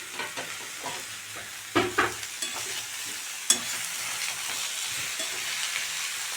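Tomatoes and soya chunks fry in a pan with a steady broadband sizzle, marked by a few sharp stirring scrapes and clatters near the start and middle; no talking.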